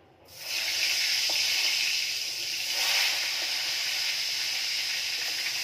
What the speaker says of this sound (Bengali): সব বেগুনগুলো এমনি করে ভেজে নেব।